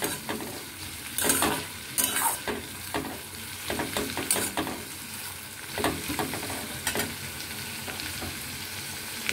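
Ingredients for a fish roe fritter curry fry in a pan, a soft continuous sizzle broken by frequent scraping stirs and light clinks of a utensil, close with no voices.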